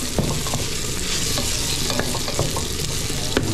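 Papaya sautés in a hot pan with a steady close sizzle, broken by repeated clinks and scrapes of a utensil stirring against the metal.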